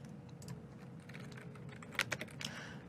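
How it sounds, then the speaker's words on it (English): Soft, quiet typing on a computer keyboard, with light scattered key clicks over low room noise and a brief burst of louder keystrokes near the end. "too loud, so I'm gonna type a little bit quieter for you guys"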